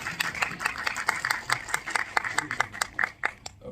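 Light, scattered clapping at a movie press conference in Delhi, a moderate patter of hands with voices talking faintly beneath it.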